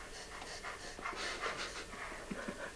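A toddler pants heavily and rapidly after exertion, with close, rhythmic breaths continuing throughout and no speech over them.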